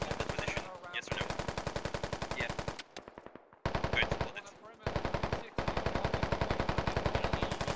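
Heavy, sustained automatic gunfire in the video game Squad, rapid rhythmic bursts nearly filling the stretch with only brief gaps, loud and close, with faint voices under the shooting.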